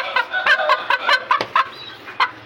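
An Aseel hen clucks repeatedly, a run of short close clucks in an uneven rhythm, fairly loud against a quiet background.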